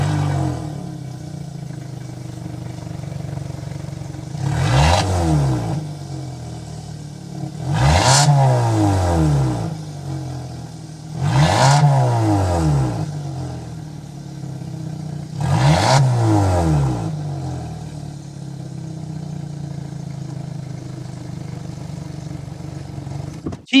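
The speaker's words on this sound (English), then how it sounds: "start it up, give it some riz so you can hear that exhaust note." A 2023 Kia Sportage SX with a 2.5-liter four-cylinder engine revs four times from idle, each rise and fall of the exhaust note clear and close against a steady idle hum.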